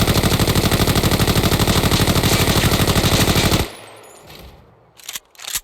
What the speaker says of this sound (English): We're not gonna control recoil at all. We're gonna just hold down fire.